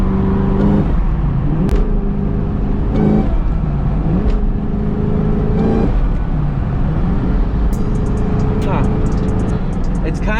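A Cobra car with a two-step launch limiter set to 3,000 RPM revs in loud repeated bursts, each climbing and then dropping back, with sharp cracking pops between the pulls.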